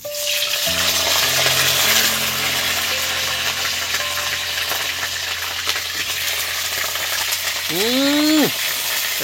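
Cauliflower florets frying in hot mustard oil, a loud continuous sizzle and bubbling with a steady low hum underneath and a brief rising whine near the end.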